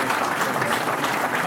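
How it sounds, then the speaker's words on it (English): A banquet audience at a football hall of fame induction claps together, a dense, even round of applause filling the room from start to finish. "please give Paul a round of applause"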